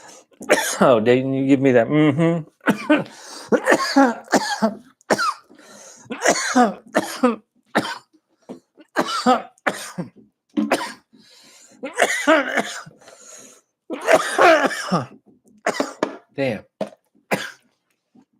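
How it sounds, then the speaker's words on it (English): A man coughs hard several times up close, with harsh throat-clearing bursts mixed in between stretches of his own loud, laughing talk. "Don't make me laugh when I'm trying not to cough."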